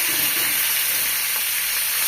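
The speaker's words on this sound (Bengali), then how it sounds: "মাথাটা ভাজা হয়ে গেছে, এবার মাছটা ভাজবো।" Fish frying in hot oil in a pan in a village kitchen gives a steady, dense sizzle and crackle, close and continuous with no talking.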